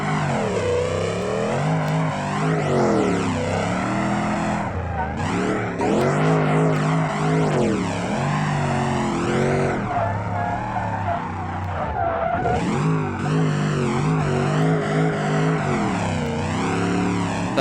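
Drift truck in BeamNG racing with a strange, harsh exhaust drone, loud and continuous throughout, the engine pitch sweeping up and down with tire skids and no talking.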